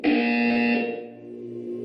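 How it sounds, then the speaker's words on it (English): A single electronic buzzer in the video game Portal 2 blares briefly, a harsh tone that cuts off and leaves a faint lingering hum. "You will hear a buzzer."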